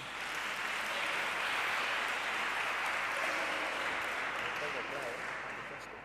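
Audience applause at a transport infrastructure congress, a continuous even bed of clapping from a large room, fairly distant and soft, with faint voices underneath.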